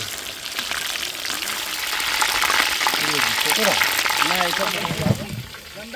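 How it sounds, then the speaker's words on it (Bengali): Eggs and chicken frying in an oil-filled pan over an outdoor village cooking fire, a steady close sizzle with stirring, while voices talk throughout. "তো বেশি ভাজবো না এটা।"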